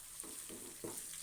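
Ginger and turmeric fry in a pan for a chicken gravy, with three soft, quick stirring scrapes over a faint sizzle.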